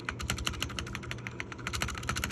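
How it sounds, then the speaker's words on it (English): Rapid keystrokes on a tape-modded mechanical keyboard fitted with swapped keycaps, giving a plain, muted clack in a dense, steady typing rhythm, close and alone. "So what I did for this keyboard is I did a basic tape mod underneath, changed the keycaps out."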